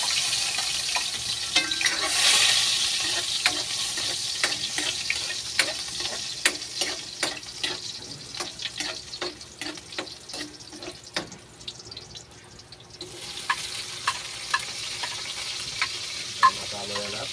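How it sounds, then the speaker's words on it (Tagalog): Adobo with string beans sautés loudly in a very hot pan, a continuous sizzle broken by frequent scraping clacks of a spatula against the metal; no voices. "Gisa-gisa ko na"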